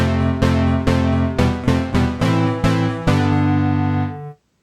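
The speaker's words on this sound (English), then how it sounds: "The Octavox Harmonizer is a diatonic pitch shifter consisting of 8 independent voices" An Eventide Octavox harmonizer plugin, an eight-voice diatonic pitch shifter, plays a sequence of about nine stacked harmonized notes in a steady rhythm, each tone bright and layered, before a sustained final chord cuts off.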